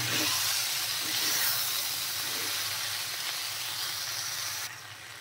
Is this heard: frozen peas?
yes